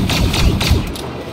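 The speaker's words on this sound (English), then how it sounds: "Grenade, make way!" Grenade blast and heavy thuds in the video game Star Wars Battlefront 2, several loud booming impacts in quick succession amid battle noise.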